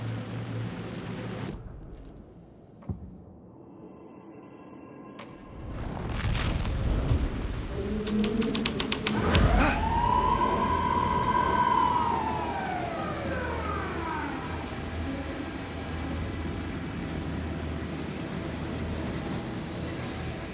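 A police car siren in the video game Alan Wake 2 wails up and down in the middle of the stretch. It follows a low boom and plays over a steady, rumbling ambience.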